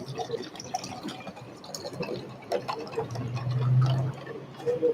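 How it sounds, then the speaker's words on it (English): Vinegar is poured into a beaker, a soft trickling fill with small drips and clinks close by, rising slightly in tone toward the end. "So let's pour my vinegar into my beaker and let's see what happens."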